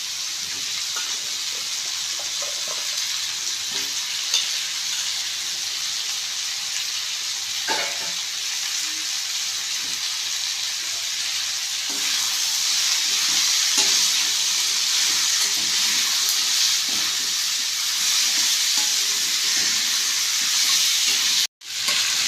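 Peeled, cut potato pieces fry in a pan for a pepper fry, giving a steady broadband sizzle that continues throughout, growing slightly louder midway, with a few faint stirring scrapes and no speech.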